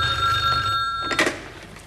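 A telephone rings with a bright electronic trill, heard once clearly near the end over a low background murmur.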